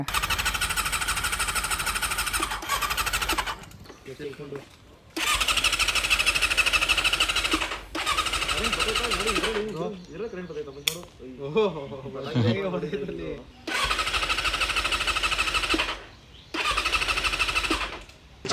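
Honda CB400 Super Four Hyper VTEC Spec III motorcycle, a Japan import with a burnt fault and hard to start, churns through several loud starter attempts with engine bursts and sputtering, between pauses and talk.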